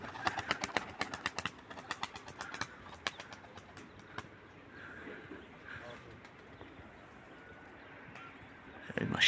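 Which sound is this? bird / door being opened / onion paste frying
bird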